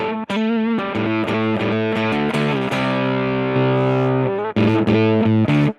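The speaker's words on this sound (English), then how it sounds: "The transistor was already clipping that way." Guitar played through a Grammatico GSG100 amp with a transistor clipping into distortion, loud and close, with buzzy sustained chords broken by brief pauses and sharp pick attacks, no talk.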